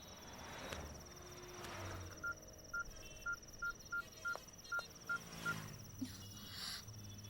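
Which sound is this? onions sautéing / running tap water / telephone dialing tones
telephone dialing tones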